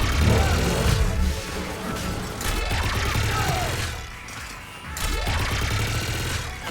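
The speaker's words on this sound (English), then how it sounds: "Just following the gunfire." Video game gunfire rattling in continuous bursts, loud and close, mixed with mechanical clanks and sweeping whooshes of combat noise, without talk.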